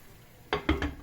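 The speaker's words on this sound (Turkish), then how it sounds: "Ve tekrar kapağını kapatıyorum." A metal lid clanks down onto a pot of chicken and vegetable pilaf, followed by a few quick rattling knocks as it settles, close and fairly quiet.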